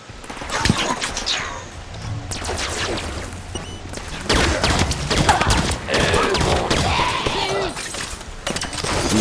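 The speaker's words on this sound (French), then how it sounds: "L'ennemi tire depuis cette rampe." Gunfire in a Halo 5: Guardians campaign battle on Legendary difficulty: loud, rapid bursts of shots and clattering impacts that come and go over a noisy battle backdrop, with faint voices in places.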